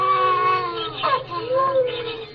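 A cat meows in a drawn-out, wailing way in a 1944 radio drama of The Pied Piper of Hamelin, two long, loud cries that rise and fall with a short break between them.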